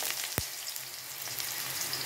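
Ridge gourd hitting a hot kadai over a high flame, steady close sizzling with a single sharp clack early on as pieces go in.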